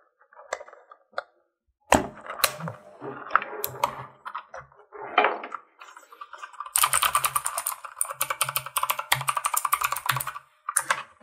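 Typing on a $69 RGB mechanical keyboard with an aluminum body and plastic feet, close and crisp key clacks starting as scattered presses, then building into fast continuous typing bursts.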